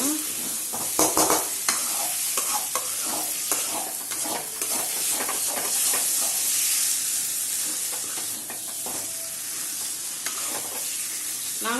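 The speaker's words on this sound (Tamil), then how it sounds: "நல்லா பிரிஞ்சு வந்து நல்லா இது மாதிரி நல்லா கிளறி விட்டுக்கோங்க" Sliced potatoes frying in oil in Tamil Nadu village style, stirred constantly, with a loud dense sizzle and hiss that runs throughout, punctuated by spatula scrapes against the pan.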